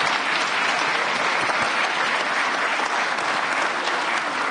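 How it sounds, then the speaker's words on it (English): Audience applause for a panel at a NATO and transatlantic policy event, steady dense clapping from a large crowd lasting several seconds without any speech. "Let's give a round of applause to a great panel."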